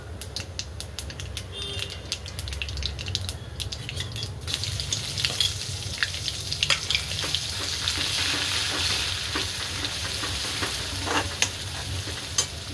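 Cumin seeds splutter in hot oil in a pan, then grated coconut, garlic and coriander go in and fry for a drumstick-pod vegetable dish. A steady close sizzle carries on throughout, with scraping stirring strokes and no voices.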